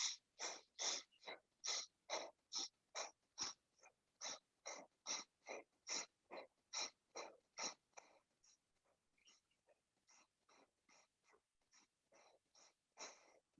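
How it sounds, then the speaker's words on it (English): Forceful Bhastrika yoga breathing: a long run of rapid, sharp, evenly paced breath bursts, close and loud at first, then a softer, slower stretch of breaths after a brief pause, with no talking. "lie still and do a bunch of Bastrika breaths"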